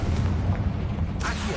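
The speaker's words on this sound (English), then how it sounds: "Accio! Confringo!" A Confringo blast in Hogwarts Legacy, a short, dense booming burst with a rumbling low end and a brief crackle toward the end.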